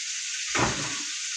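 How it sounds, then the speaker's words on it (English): Turkey wings sear in hot oil with a steady, bright sizzle throughout, broken by a brief lower splash and bubble near the middle. "And you can hear them searing."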